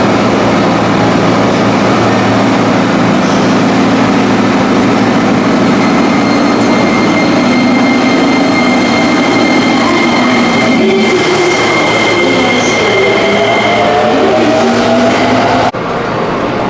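A local stopping train of the JR Keiyo Line (Keyo 34 set) runs at the platform at Nishi-Funabashi station, with a steady low rumble and hum, rolling wheel noise and brief higher squeals, loud and continuous with no talk.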